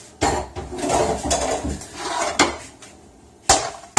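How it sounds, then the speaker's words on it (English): Cutting boards being swapped on a kitchen counter: several sharp clattering knocks and scrapes of boards set down and slid, close and loud, with a final hard clack near the end. "So first, change out cutting boards."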